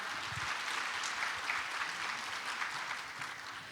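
Audience applause at the NEMO 2023 conference following a keynote speech: a steady, dense wash of clapping from a large crowd that holds evenly for the whole stretch and tapers slightly at the end, with no talking over it.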